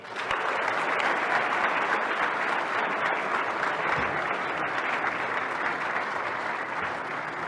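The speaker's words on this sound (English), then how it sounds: "And keep that applause going for the senior animator" Dense, steady applause from a packed PAX East 2017 Gwent panel audience carries on for several seconds at an even, fairly loud level before tapering slightly at the end.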